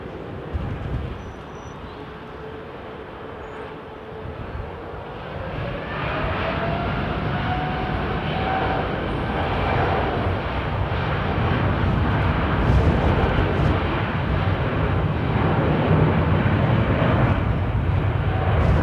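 Aircraft taxiing at London Heathrow Airport, a steady broadband engine roar that builds slightly and holds, with a rising whine, close and continuous with no talk.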